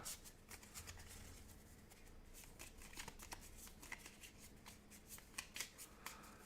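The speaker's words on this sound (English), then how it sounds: "Shuffle, shuffle, shuffle, shuffle, shuffle, shuffle." A deck of cards riffled and shuffled repeatedly at close range for a board game, a steady run of crisp papery flutters and slaps, fairly quiet with no talk over it.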